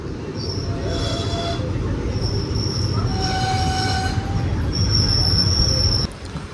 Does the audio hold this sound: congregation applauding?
no